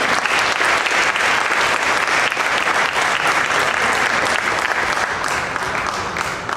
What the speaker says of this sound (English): I will give a great round of applause.